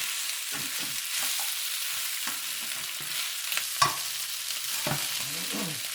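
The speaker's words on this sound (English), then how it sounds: "pick like pork butts or pork shoulders, and they are browning up pretty good" Pork butt or shoulder pieces sizzle steadily in hot oil in a pot, with a constant close frying hiss broken by occasional scraping and stirring clinks, and no talking.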